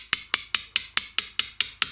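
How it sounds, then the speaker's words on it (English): A 400 g hammer taps a chisel cutting V-shaped letters into soft stone, giving nine sharp, evenly spaced metallic strikes, close-up and steady with no talking. "I said I was unsure about this 400g hammer, but actually it's working really well"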